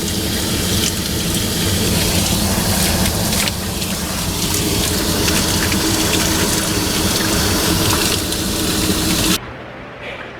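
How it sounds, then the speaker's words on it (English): Water pours out of the back of a leaking water heater in a flooded condo, a loud, continuous rushing splash that cuts off abruptly near the end, leaving quieter room noise. "And it is pouring out of the back of the water heater."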